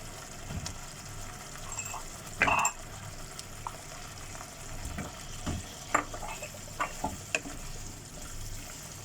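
Potatoes fry in masala in a pot and are stirred, a soft continuous sizzle broken by occasional scraping knocks and clinks, fairly quiet and close.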